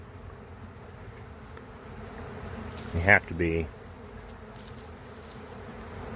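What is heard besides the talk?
honey bee swarm buzzing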